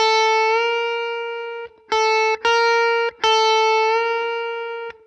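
Electric guitar playing a half-step string bend lick: a sustained fretted note, then several short picked notes bent up and released, clean-to-slightly-driven tone, close and alone.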